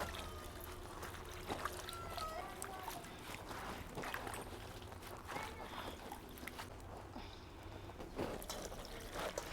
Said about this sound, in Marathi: भाजी धुवून घेऊ